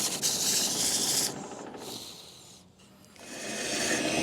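Abrasive sandpaper against wood spinning on a lathe, a loud hissing rasp that drops away briefly, then returns strong and steady.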